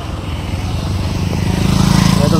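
Motorcycle engines at a crowded bike gathering parking area in Tulsipur, Godda, a steady low rumble of several machines close by that grows slightly louder toward the end, with faint voices in the background.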